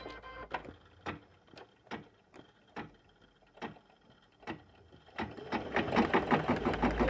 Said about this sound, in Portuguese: E agora a máquina vai fazer para mim o ponto cheio em volta.